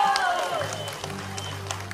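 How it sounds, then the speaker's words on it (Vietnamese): An audience at a live music show applauds the sound crew, giving a dense wash of clapping that carries steadily through the moment, with a faint voice and stage hum underneath. "xin mọi người dành một tràng vỗ tay"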